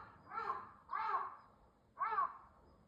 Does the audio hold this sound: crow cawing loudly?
yes